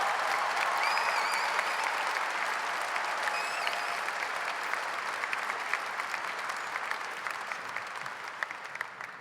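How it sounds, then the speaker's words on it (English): Sustained crowd applause at a Maple Grove Senior High graduation ceremony as foundations teachers stand, a dense steady wash of many hands with a few whistles, slowly tapering toward the end. "Go ahead and applause."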